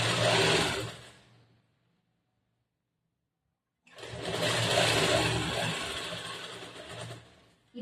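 An electric sewing machine stitches a blouse in a tailoring class, running as a steady whirring hum. It runs in two bursts with a quiet pause of about two seconds between them.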